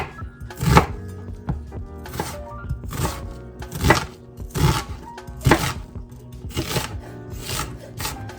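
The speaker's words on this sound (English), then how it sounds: "the first step is just chopping an onion" A knife chops an onion on a cutting board while a mustard béchamel is started, about a dozen crisp thuds at an uneven pace with some faint scraping between cuts, close and clear with no talking.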